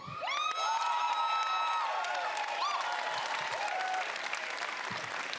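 A large audience at the Bethesda E3 2018 presentation breaks into loud applause, cheers and whoops, a dense sustained roar with high shouts, fading slightly toward the end.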